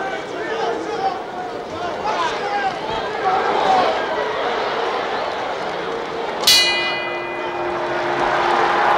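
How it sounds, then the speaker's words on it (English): Boxing bell marking the end of round six at Ali vs Frazier II, Madison Square Garden, 1974: a single bright ring with a ringing decay cutting through a loud, constant arena crowd roar. "The bell and the end of round 6"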